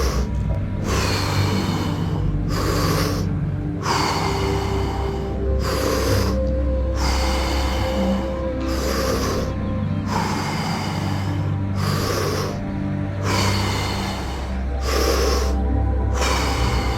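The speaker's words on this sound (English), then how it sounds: "Breathing in peace and opportunities. Exhaling fear, doubts." Deep rhythmic breathing exercise, strong forceful breaths in and out repeating at a steady pace of roughly one per second, close and loud over a constant low background drone, with no talking.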